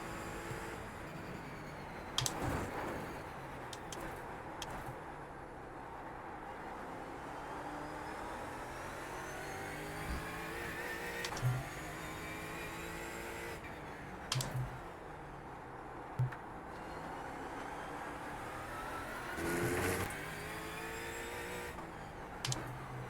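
A Ford Mustang GT4 race car engine at Oran Park in the iRacing sim: a steady, fairly quiet engine drone rises and falls through gear changes, with scattered clicks and taps throughout.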